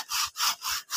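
A hand saw cuts back and forth through wood in a steady rhythm of about four rasping strokes, close and fairly loud, with no talk over it.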